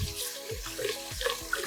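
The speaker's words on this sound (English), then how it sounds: "I just run the water" Tap water runs steadily into an Instant Pot inner pot to rinse rice, a continuous close splashing stream with no talk.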